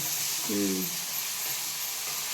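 Spice paste sautéing in a hot pan of oil for a spicy village-style sprouted moth bean curry, a steady broadband sizzle throughout with a brief low tonal hum early on.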